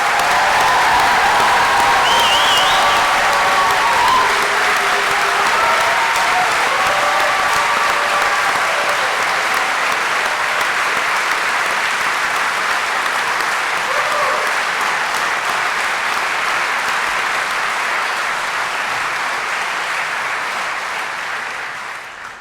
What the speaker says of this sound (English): So give them one big round of applause.